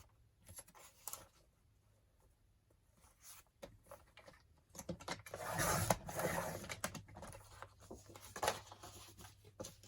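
A page of a craft snippet storage book is cut in half with scattered quiet clicks and rustles, then a louder, denser burst of cutting and paper handling midway before it settles back to faint handling sounds.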